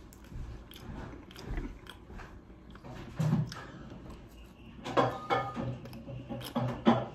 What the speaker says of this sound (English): I'm still eating those freaking amazing fries.